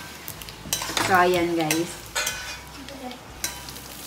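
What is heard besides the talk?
stirring and mixing rajma chawal in a pan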